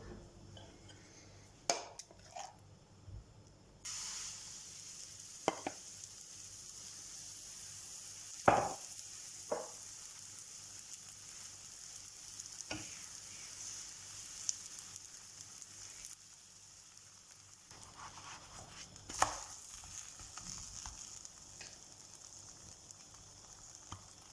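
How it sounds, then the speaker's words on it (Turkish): Gözleme flatbread cooking in a pan, with a steady soft sizzle and a few sharp clicks and scrapes of utensils against the pan, close and without talk. "İkincisini hemencecik tavama ilave ediyorum."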